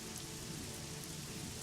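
Light rain trickles through a forest canopy as a steady, soft, even hiss of dripping water, faint and continuous without voices.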